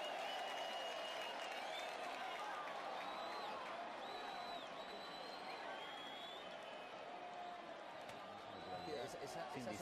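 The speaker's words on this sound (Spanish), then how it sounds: "el público le está vacilando y aplaudiendo" Real Madrid football fans at Gareth Bale's presentation applauding steadily, a broad, even wash of crowd clapping heard from a distance under a commentator's voice.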